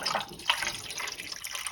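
Water poured into warm homemade soup in jars being prepared for canning, a brief continuous splashing trickle, close and moderately loud, with no talking.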